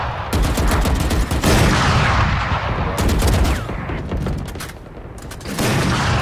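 Bursts of rapid automatic gunfire from the shooter video game Valorant, loud and close, come in several long sustained volleys separated by brief pauses, with sharp cracks and booming reports layered on top.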